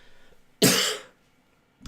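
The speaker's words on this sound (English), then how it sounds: "I'm trying my best holding all the coughing" A single loud, harsh cough bursts out close to the microphone, a wet rasp that trails off over about half a second, with a brief second onset cut short at the end.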